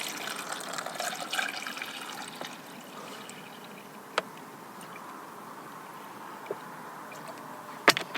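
Hot water is poured into a Wayfarer all-day breakfast pouch at a wild camp in Winnats Pass, Peak District, a soft, continuous trickle and slosh up close, fading to a quieter fill with a few sharp clicks and knocks.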